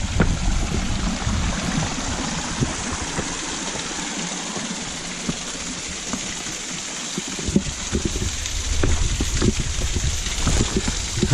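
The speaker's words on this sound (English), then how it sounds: "here's a good sized waterfall that's going really well." A good-sized waterfall in the Wichita Mountains rushes steadily, a broad continuous wash of falling water heard close and loud throughout, with occasional louder splashes and no talking.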